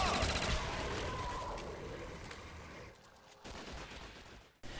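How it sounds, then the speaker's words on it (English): A submachine gun in Black Ops Zombies fires rapidly in a long, dense, continuous stream that gradually fades before a brief final burst. "this gun, it just shoots so fast, it runs out of ammo really fast"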